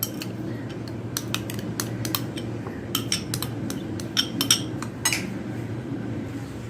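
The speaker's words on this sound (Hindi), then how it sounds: "यहाँ पे सबसे पहले मैं मायोनीज़ डाल देती हूँ बाउल में" Mayonnaise spooned into a bowl for a burger sauce, with a run of bright metallic clinks and taps of a utensil against the bowl, irregular and close, some louder strikes toward the end, no talking.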